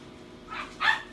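A dog at a home with a chicken farm gives two short barks, the second louder, close by and standing alone over faint background noise.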